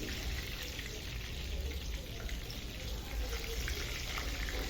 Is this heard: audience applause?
no